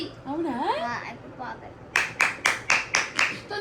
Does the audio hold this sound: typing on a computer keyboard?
no